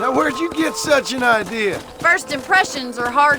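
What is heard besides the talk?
No everyday noises stand out.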